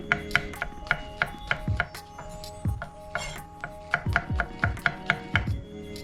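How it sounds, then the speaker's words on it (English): A knife chops through a whole onion on a board in a rapid series of sharp, close taps, pausing briefly midway before resuming in a steady rhythm; no one talks. "Slice these up. A whole onion."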